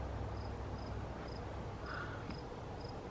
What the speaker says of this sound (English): That's a fire cricket.